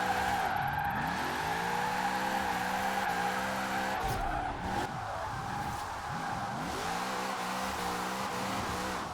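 Alfa Romeo 155 race car on street tires drifting in Forza Horizon 4: loud, continuous tire squeal over a revving engine, pitch swooping up and down through repeated slides.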